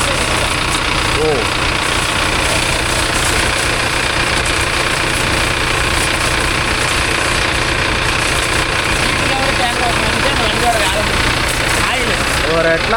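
A Mahindra Yuvo Tech Plus 585 4WD tractor engine idles nearby at a water service, a loud steady diesel rumble with rhythmic knocking, while people talk over it.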